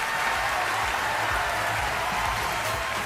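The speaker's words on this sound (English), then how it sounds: "All this applause, all this ovation is something that always lifts the players' spirits up" Steady wash of audience applause and ovation fills the hall at a cricket awards ceremony, continuous and even throughout with no voices standing out.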